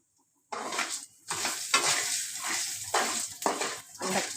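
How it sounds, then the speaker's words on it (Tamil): Chana dal, fenugreek seeds and urad dal fry on low heat in a pan, bursts of crackling sizzle and stirring scrapes beginning after a brief silence, with dips between strokes. "சிம்மில் வச்சுக்கிட்டு இதை வதக்கணும் நல்லா ஃப்ரை பண்ணிக்கணும்"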